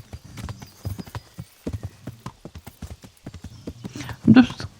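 Rhythmic clip-clop of horse hooves at a steady trot in the video game Kingdom Come: Deliverance, fairly close, with a voice talking over it and a brief louder burst near the end.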